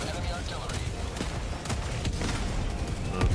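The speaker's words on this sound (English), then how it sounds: "this is gonna be a fat walking barrage" An orbital walking barrage in a sci-fi shooter game, with continuous loud explosions and gunfire-like blasts rolling one after another, a heavier boom at the end, and people speaking over the din.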